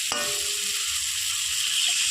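A jackfruit kofta mixture sizzles steadily in a hot pan during sautéing, with a constant close hiss and a brief clink near the start.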